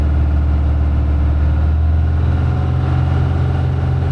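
A 1972 Peterbilt cabover truck with a well-worn Detroit diesel idles at about 1,000 RPM, a steady low rumble held close and loud throughout with no talking.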